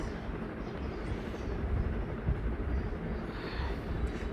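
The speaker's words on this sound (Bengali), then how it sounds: "যখনই কোনো স্টেশন চলে আসে তখন ট্রেনটার গতিটা একটু ধীর হয়ে যায়।" Inside a Vande Bharat express train from Kolkata to New Jalpaiguri, a steady low rumble and rattle of the carriage carries on as the train slows toward a station. The sound is fairly faint and continuous, with no talk.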